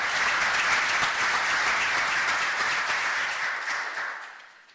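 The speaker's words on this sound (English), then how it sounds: "I think we all deserve a round of applause." Audience applause at the close of a long day of talks on research data infrastructure, a dense steady clapping from a full room that holds for about four seconds and then thins out and fades.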